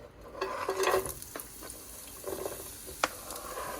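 Chopped onions drop into hot coconut oil on a medium flame and begin to sizzle. A short burst of frying crackle comes with a few light spoon or pan knocks, close and moderate in level, without speech.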